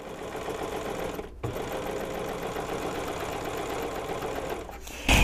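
A serger runs steadily around the shoulder seams of a little girl's dress, a close, even mechanical whir that carries almost without a break, with one short pause early on.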